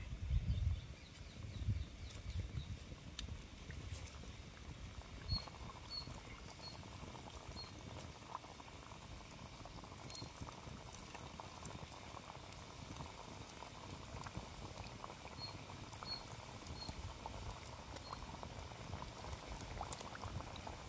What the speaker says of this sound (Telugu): ఒక్కొక్కటి అయితే నూనెలు అయితే వేస్తా ఉన్నా.